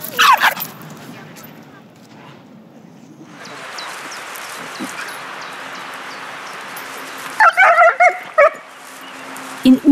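Dogs in a tense greeting let out a few short, close barks and high whimpers in bursts near the start and again near the end, with quieter stretches in between.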